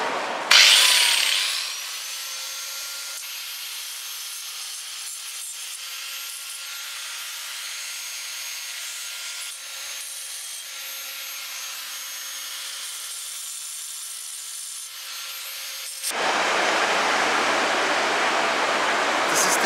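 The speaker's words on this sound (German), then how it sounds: "Und ich bin gerade dabei, mit der Flex die Balken rauszuarbeiten." Harsh, continuous whine of an angle grinder cutting a basalt column, close and loud, holding steady for a long stretch before shifting to a rougher grinding rasp.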